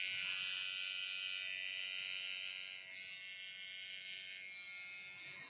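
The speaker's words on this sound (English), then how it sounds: "this is just an edger" Electric hair edger clippers buzz steadily at close range during a pompadour haircut, with a constant high-pitched hum that shifts slightly as the blade moves and no talking.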